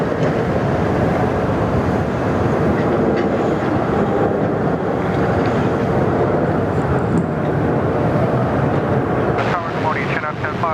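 A Jetstar jet airliner on its takeoff roll at Sydney Airport produces a loud, continuous broadband engine roar with rumble throughout, heard from nearby outdoors, with voices audible over it.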